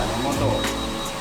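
A hair dryer blows air over freshly permed hair from several directions, a steady loud whooshing hum throughout.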